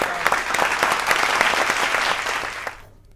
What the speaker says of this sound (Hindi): जो तालियों की गूंज आपने सुनी